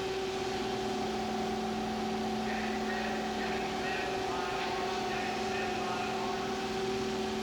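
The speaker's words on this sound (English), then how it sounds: "I will now let you listen to the pulverizer" Williams DF52 coal pulverizer running in a plant, a steady droning hum with constant tonal whine, heard from a distance with no change in level.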